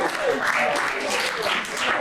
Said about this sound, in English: Can we give our contestants a round of applause?